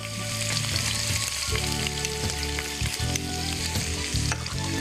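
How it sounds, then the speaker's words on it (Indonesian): Garlic and chopped onion sizzle steadily in hot oil on a cooking show, a dense continuous frying hiss with occasional stirring scrapes and clinks throughout, no voices over it. "apabila minyak telah panas, segera kita akan menumis bawang putih. Tambahkan bawang bombay yang dicincang."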